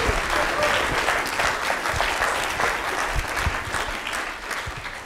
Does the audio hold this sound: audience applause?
yes